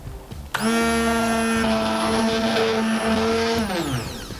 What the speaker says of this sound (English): This is why I am going to blend it.